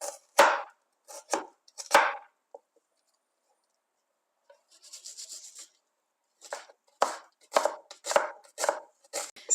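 Crisp knife chops through onions against a cutting board in irregular bursts, a pause, then a scraping rub before faster chopping resumes.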